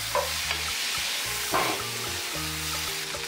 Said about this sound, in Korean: 소스와 재료가 잘 어우러지게 섞어주세요.